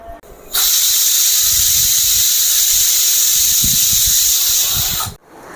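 A pressure cooker with mutton inside lets out one long, loud, steady steam whistle that lasts several seconds before cutting off abruptly, with a low rumble beneath it.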